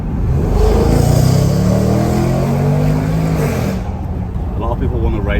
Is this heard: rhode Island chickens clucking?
no